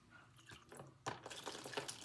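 Water trickling and dripping as it is poured from a reusable plant tray during indoor gardening, faint, close splashes in short irregular bursts, quiet throughout with no speech.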